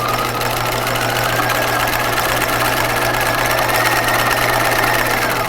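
A home sewing machine back stitching while making a pair of pajamas, with a steady, loud mechanical whir and hum held evenly throughout, alone with no talk.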